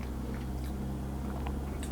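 Someone chews freshly baked English bloomer bread spread with butter, soft steady mastication with faint crusty crunches close to the microphone, no talking.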